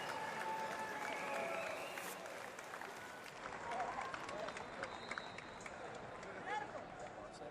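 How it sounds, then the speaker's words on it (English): A crowd applauds Canadian powerlifter Patrick Gordon at the 2019 Department of Defense Warrior Games, a faint, distant, steady wash of clapping echoing through a large hall. "Round of applause for Patrick Gordon from Canada"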